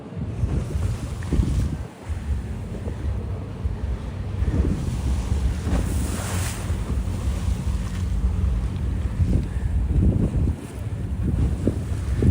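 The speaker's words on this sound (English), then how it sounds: "These waves rustling along the water's edge." Waves lap and rustle continuously along the water's edge in Jersey City, a close, steady surf wash mixed with gusty wind buffeting the microphone, with no talk.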